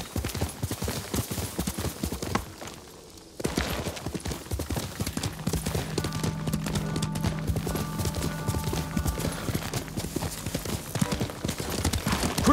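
Horse hooves galloping in the video game Ghost of Tsushima, a steady rapid clip-clop rhythm close and prominent throughout, briefly dropping out before resuming, with a low sustained game tone in the background.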